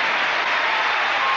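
A concert audience at a 1983 live show applauds the band, a dense, steady wash of clapping that stays loud and even throughout.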